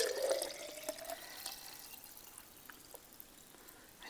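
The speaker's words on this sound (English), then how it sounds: "So I poured in some water." Water poured into a pressure cooker for a one-pot spaghetti meal, a soft splashing pour at the start that fades into faint trickles and drips, quiet and close.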